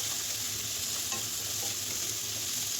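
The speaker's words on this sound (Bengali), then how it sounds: "বীজটা বেশ কিছুটা ভাজা ভাজা হয়ে গেছে।" A pan of hill seeds sizzles steadily as they fry, a dense continuous hiss with faint scrapes from a stirring utensil, heard up close without speech.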